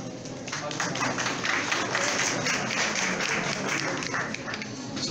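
An audience applauding at an evening gathering, a dense steady wash of many hands clapping, sustained and fairly loud throughout, easing slightly near the end.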